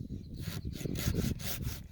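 A hand saw cuts through a young walnut tree branch during pruning, with rough, rasping back-and-forth strokes in a steady rhythm, close and loud, with no voices.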